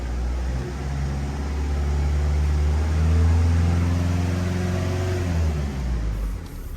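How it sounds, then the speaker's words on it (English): A Ford Kuga with a particulate filter pressure fault is revved while parked, its engine note climbing to a sustained high pitch and then easing back down, close and fairly loud with no talking. "Rev it up."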